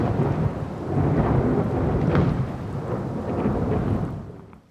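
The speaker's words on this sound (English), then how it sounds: "A huge thunderstorm continues throughout the whole night." Heavy rain pours steadily while thunder rumbles and cracks through a stormy night, no voices.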